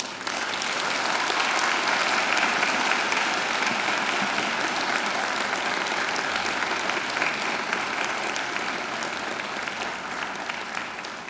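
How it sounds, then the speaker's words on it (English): Sustained applause from a large audience at a university graduation ceremony, dense and even, filling the whole stretch without talk. "And now I invite you to give them a mighty round of applause."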